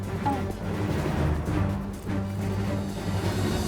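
An emote plays in Fortnite with its regular music, a dense, brassy orchestral passage that stays steady and fairly loud throughout with no pauses.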